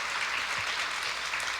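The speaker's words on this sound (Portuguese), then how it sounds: "Aplaudo o Senhor mais uma vez." A congregation claps during a church service, a brief, steady patter of many hands that is moderately loud throughout, with no speech over it.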